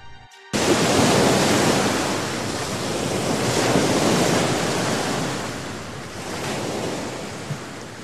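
Ocean surf washes steadily onto a Pacific beach, a loud, continuous broadband roar that swells and eases gently, with no voices present after a brief quiet start.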